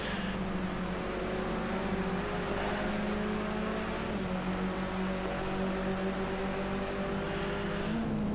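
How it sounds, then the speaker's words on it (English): On-board sound from a BMW 320 race car lapping Silverstone International Circuit, its engine droning steadily and loudly throughout, with pitch shifting through gear changes and no talk. "As we're going to ride on board with Keegs for a lap up the Silverstone International Circuit in the BMW 320."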